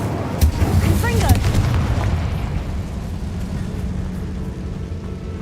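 A Confringo spell blast in the Hogwarts Legacy video game, a sharp explosive boom followed by a rumbling fiery decay, loud and close, with a voice speaking over it.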